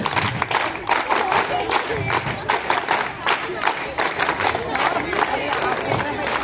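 NCC cadets clap steadily in a dense, continuous burst at a school Sankranti celebration, with crowd cheering and shouting mixed in throughout.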